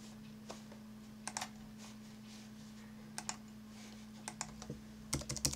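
Faint scattered keystrokes on a computer keyboard while a world name is typed into Minecraft, heard as sparse clicks and short clusters over a low steady hum.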